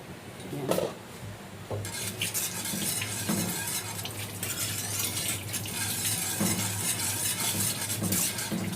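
A spoon scrapes and stirs through a coconut milk mixture simmering in a pot for maja blanca, with steady clinks against the pan over a low bubbling sizzle.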